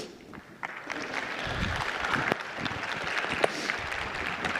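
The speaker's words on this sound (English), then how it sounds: "Polite golf clap, golf clap" Polite, scattered golf-clap applause from a morning audience at a psychological association conference keynote, soft and moderately distant, a few sharper claps standing out over a low crowd murmur.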